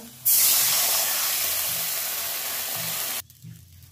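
Water poured into a pan of deep-fried, reddened potatoes bursts into a loud, steady steam hiss and sizzle lasting about three seconds, then cuts off sharply, leaving a quieter bubbling simmer.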